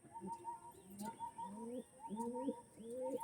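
Dragon Face domestic pigeons cooing, a close, soft series of repeated rolling coos with gentle rising inflections, quiet and alone over a faint background.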